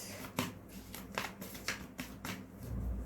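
Tarot cards are shuffled by hand at close range in a quiet room, giving several soft, brisk riffling bursts spaced about half a second apart, with a low thump at the end and no talking.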